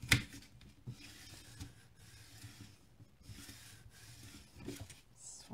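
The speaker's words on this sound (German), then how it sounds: "Dann nehmen wir uns das Falzbein und gehen hier ebenfalls nochmal die Falz entlang" A bone folder rubbed along a paper fold while making a mini album cover, giving soft, intermittent scraping strokes, quiet and close, repeated several times with brief pauses between.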